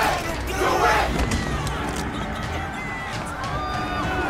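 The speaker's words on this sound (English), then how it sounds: "everybody's cheering us on right now" Crowd cheering in Bioshock Infinite, a loud, continuous mass of voices with shouts and battle cries rising early, then sustaining as a dense roar throughout.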